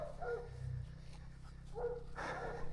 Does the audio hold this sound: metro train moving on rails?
no